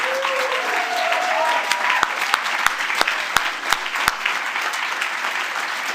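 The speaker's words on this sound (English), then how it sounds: "can you please put your hands together as we welcome to the stage the nominees, Kiva Frischman, Lil Lockham, and Pat Walsh." Audience applause at the Spirit of Manchester 2023 awards as nominees are welcomed to the stage, a steady crowd clapping with sharp individual claps standing out, loud and continuous throughout.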